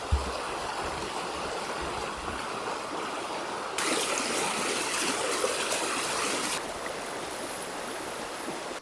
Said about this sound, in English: it's right on the creek.